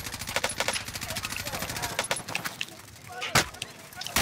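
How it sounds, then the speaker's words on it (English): Rapid bursts of automatic gunfire in the Warzone video game, dense repeated cracks spread across the clip with a louder shot near the end, in a busy game mix. "I'm getting shot from the right now."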